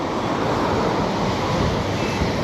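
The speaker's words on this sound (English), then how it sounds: "Very strong wind." Very strong wind buffeting a camera microphone beside a public footpath near the Tata steelworks at Port Talbot, a loud continuous roar and rumble with no gaps, close and overwhelming, with no voices.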